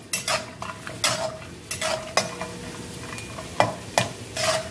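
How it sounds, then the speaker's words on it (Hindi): Peanuts roast in a pan on the stove, a spoon stirring and scraping them in quick, repeated strokes over a faint sizzle, close and fairly quiet with no talking. "पहले मूंगफली भून के निकाल लूँ फिर मैं और चीज भूनू, बस मूंगफली पहले भून लेती हूँ"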